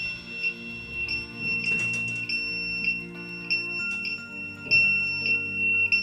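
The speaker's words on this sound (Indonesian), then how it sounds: "2 buzzer mount panel on ya, yang mengindikasikan gangguan overload pada beban motor 3 pas" Two buzzers mounted on an electrical panel door sound a thermal overload alarm for a three-phase motor load, giving steady high electronic tones with rhythmic pulsing, loud and continuous with a faint background hum.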